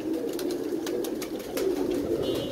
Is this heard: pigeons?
yes